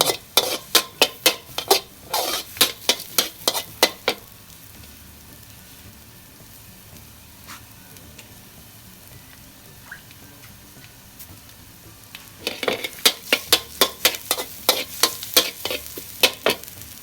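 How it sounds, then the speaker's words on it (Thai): Garlic crackles and sizzles in oil in a pan, with a run of sharp, close stirring and scraping strokes, then a quieter stretch of steady frying, then more brisk stirring. "ตามด้วยกระเทียมเจียว เจียวกระเทียม"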